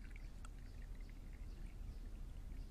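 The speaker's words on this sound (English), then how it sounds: "And then I'm going to carefully pour my flat lemonade in as well." Flat lemonade poured into a plastic cup, a soft steady trickle of liquid, quiet and close, with no talk over it.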